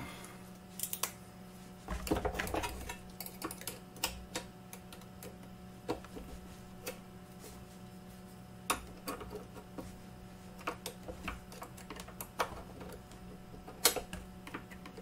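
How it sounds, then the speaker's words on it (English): Faint plastic clicks and taps from a glove box latch mechanism in a 2003-2007 Honda Accord being worked by hand, a quiet irregular series of small snaps spread over a low steady hum. "Try to get this latch locked."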